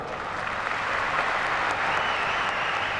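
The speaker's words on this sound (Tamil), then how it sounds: "அதுக்கு நீங்க ஒரு பெரிய கரகோஷம் கொடுக்கலாம்." An audience at a Tamil film tribute event applauds with dense, sustained clapping that holds steady and fairly near throughout, with no voices over it.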